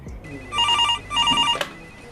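A cell phone rings nearby in two bright electronic trilling bursts separated by a short gap, set against a low background hum, with no speech.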